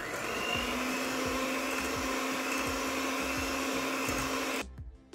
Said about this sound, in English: add eggs, sugar and vanilla and beat them until light and fluffy